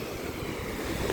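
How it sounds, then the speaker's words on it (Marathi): Surf from ocean waves rolling onto a Konkan coast beach near Ganpatipule at sunset, a steady broad wash with wind noise across the microphone, continuous and fairly close, no voices. "लाटा जोरात येतात"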